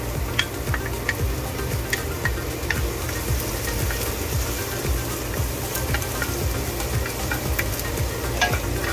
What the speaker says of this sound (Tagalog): lalagay tayo ng olive oil dito sa pan para panggisa ng mga gulay. Oh, ito, unahin natin ang garlic.